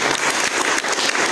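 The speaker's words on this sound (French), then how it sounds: "on va vous applaudir très fort" Applause from a crowd after a thank-you announcement, a thick continuous rain-like clatter of many hands, fairly loud and close, with no speech over it.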